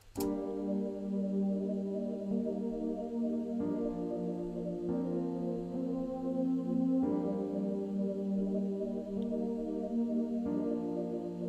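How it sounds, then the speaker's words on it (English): A mellow, sustained synth lead from the Expand plugin plays smooth held notes over warm chords, changing pitch every couple of seconds with no voices. "next thing we did was we added a soft lead."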